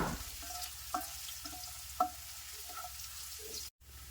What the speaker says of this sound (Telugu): అల్లం వేసుకొని చక్కగా వేగనివ్వాలి